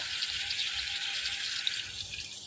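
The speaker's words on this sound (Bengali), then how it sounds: "এই যে একটুখানি আমি জল মিশিয়ে দিচ্ছি এর মধ্যে" Water trickles into chilli chicken in a pan as a brief, steady bright hiss with a faint splash, close and without voices.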